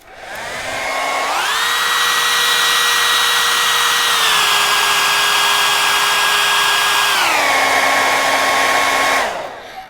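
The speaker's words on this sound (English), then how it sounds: "just hit them with a hairdryer like this." A hair dryer whirs up and blows steadily and loudly for several seconds on Flexifelt Clears panels, its pitch dropping twice as the speed setting changes, then it shuts off.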